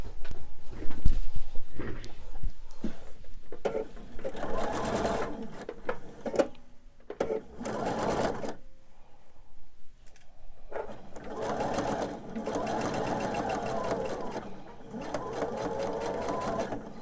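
Sewing machine stitching a seam on a pieced quilt-style pillow top, running in several bursts of steady whirring with short pauses between, close by and fairly loud, with brief handling sounds in the gaps.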